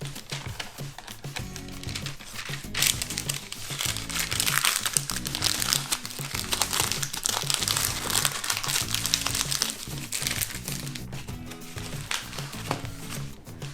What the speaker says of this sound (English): I am going to wrap mine up in greaseproof paper, put them in the freezer